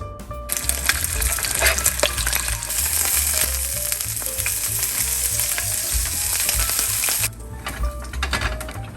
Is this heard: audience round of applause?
no